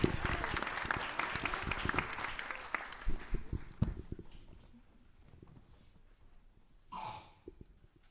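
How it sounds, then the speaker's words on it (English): Applause from the audience at a Guru Purnima gathering, dense at first and then thinning to scattered claps before fading, followed by faint background sounds. "Please welcome them with a warm round of applause."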